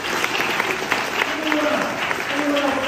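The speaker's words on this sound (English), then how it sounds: "Give them a round of applause." High school seniors in an audience applaud steadily in a dense, continuous wash of clapping, with faint voices underneath.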